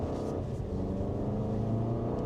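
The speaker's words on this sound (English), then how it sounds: "You can definitely tell it's a naturally aspirated engine." A 2025 Honda CR-V or Toyota RAV4 crossover SUV with a naturally aspirated engine accelerating from inside the cabin, a steady low droning rumble that rises slightly toward the end, with no talk.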